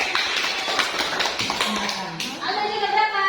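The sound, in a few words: class clapping hands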